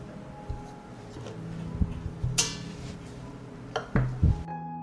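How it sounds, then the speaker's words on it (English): Glass jars set one by one into a deep pot lined with a cloth, giving a few soft clinks and knocks of glass against metal and glass, spaced irregularly and close by, with no talking. "I put the jars in the pot."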